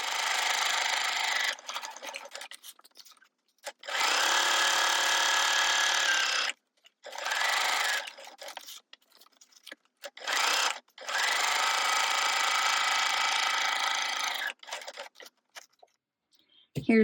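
A sewing machine stitches through sheets of paper, tearing and distressing them for Halloween journal pages, running in several long bursts of steady mechanical whirring with short pauses between runs.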